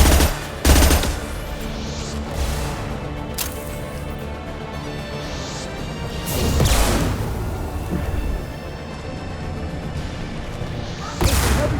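Gunfire in the video game Mass Effect 2 sounds as loud, dense bursts of automatic shots and blasts layered over a constant roar of combat noise, with a few heavier impacts standing out.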